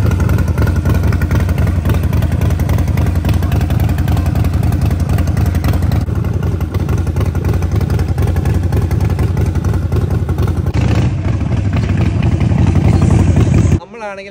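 A motorcycle engine runs steadily while riding, a loud, continuous mid-pitched drone with slight revving changes, cutting off abruptly near the end.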